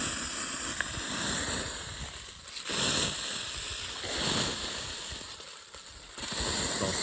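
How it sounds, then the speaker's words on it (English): Spring water flowing on a farm orchard, a steady broad rush with shifting surges and gusty swells, close and moderately loud, no talking. "It's all spring water coming from our spring"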